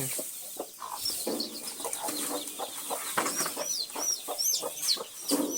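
Chickens cluck softly in a busy, overlapping murmur, with high chirps from chicks scattered throughout at moderate distance.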